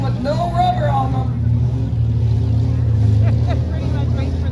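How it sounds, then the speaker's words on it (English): Demolition derby cars rumble and idle at a fairground event in Abbotsford, a steady low engine drone with occasional revving, loud and continuous, while people talk over it. "We still have a few cars still moving around here."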